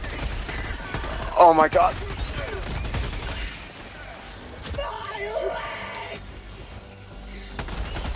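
Helldivers 2 video game gunfire: bursts of rapid shots and explosions rattling under excited voices and a shout, loud and close within a busy battle mix.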